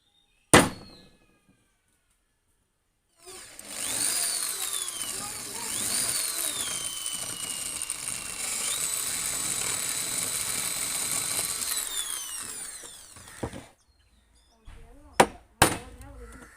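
A power drill bores a hole in a part for a homemade fish hunting gun, whining steadily for about ten seconds with shifting pitch, then stopping, followed by a few sharp metallic knocks.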